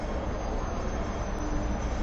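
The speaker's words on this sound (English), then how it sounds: "This is a double-decker tram," Riding inside a double-decker tram in Hong Kong: a steady, broad rumble of wheels and motor fills the space continuously at close range, with no talking.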